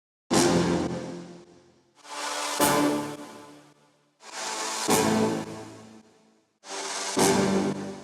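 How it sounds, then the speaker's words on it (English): Four synthetic cashmere brass chord hits come in turn, each preceded by a reversed copy of the same sample that swells up as a swoosh. Each hit is loud, bright and close, then decays into silence. "So that's a basic cashmere brass"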